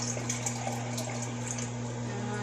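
Water poured steadily into stir fry seasoning, a continuous splashing stream up close over a steady low hum, with no talking.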